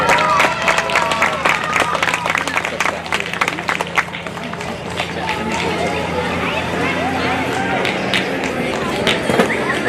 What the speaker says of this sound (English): Let's give my class another big round of applause.